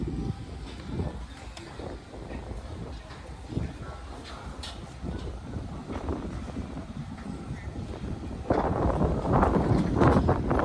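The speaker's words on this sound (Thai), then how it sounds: "ลมครับลม" Gusty wind buffets the microphone at an outdoor village event in Sisaket, giving a continuous low rumble that swells louder near the end, with faint voices underneath.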